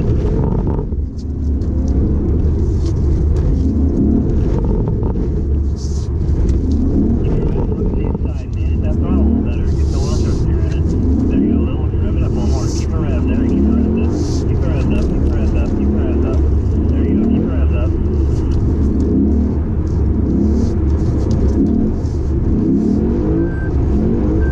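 Naturally aspirated Lexus car engine droning and revving through a drift, a loud sustained rumble with rising and falling pitch, close up throughout.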